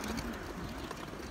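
Soft, low cooing from a racing pigeon caught outdoors in a town square comes through faint background street noise in a brief burst.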